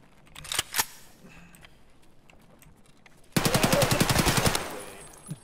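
Gunfire in the shooter game Escape from Tarkov: a couple of sharp single shots early on, then after a quiet stretch a loud, fast burst of automatic fire with evenly spaced rapid reports that stops abruptly.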